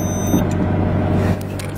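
A Lamborghini Reventon shifting into reverse gear, a close, loud low rumble of the idling engine with a brief mechanical clunk, the rumble dropping slightly after about a second, no voices.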